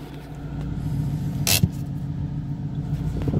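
Ford Mustang GT cruising on the road, its engine a steady low rumble from inside the cabin, with a brief sharp bump around midway and no speech.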